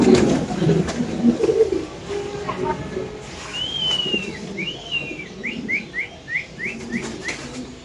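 Pigeons at a breeding and sale spot coo in soft rolling phrases, joined by a series of short rising whistled calls, close by over low chatter and background voices.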